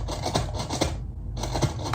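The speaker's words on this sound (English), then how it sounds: "So, all right, so here's the Pampers wet wipes." A package of Pampers wet wipes shaken like a shaker gives a steady raspy, papery swish in quick regular pulses, with one brief pause before the rhythm resumes, close and fairly quiet.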